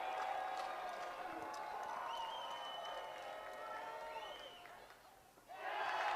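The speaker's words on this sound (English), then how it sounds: "Now the Sky both dugouts getting rowdy, as is the crowd." Rowdy crowd and both dugouts at a high school 6A baseball tournament game, a continuous far-off wash of cheering, shouting and whoops that swells and dips, then surges again at the end.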